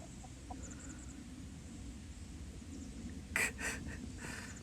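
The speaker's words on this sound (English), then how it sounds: "That chicken's always here whenever I'm operating the machine." A hen on a hillside, beside a mini skid steer working, gives a couple of short, close clucks over a low background rumble.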